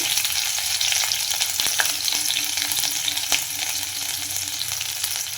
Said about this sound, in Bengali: ফার্স্টেই একটু রসুন আর কাঁচা লঙ্কাটা দিয়ে দিচ্ছি